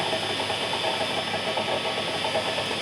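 Gears of a milling machine run steadily just after an oil change, a constant mechanical whir and hum with faint ticking and no pauses.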